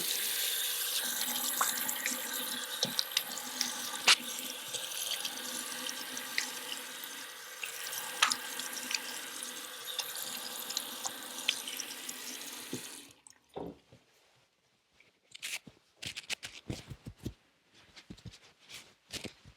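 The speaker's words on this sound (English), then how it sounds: "Wet the face one last time." A bathroom sink tap runs steadily for about thirteen seconds while someone splashes water on their face before shaving. The flow then stops, leaving sparse drips and small splashes.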